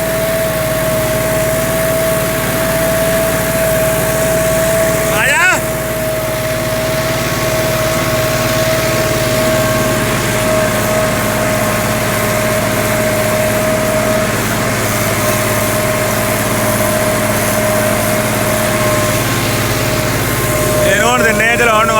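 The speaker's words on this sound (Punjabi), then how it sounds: "ਇਦਾਂ 100 ਚੱਕਰ ਦੌੜਨ ਡਿਆ ਟਰੈਕਟਰ" A tractor tilling a field with a disc harrow and rotavator: a steady engine drone with a constant high whine runs throughout, loud and close, with a brief clatter around the middle and near the end.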